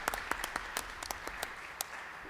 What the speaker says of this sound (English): if you would give them a round of applause for being here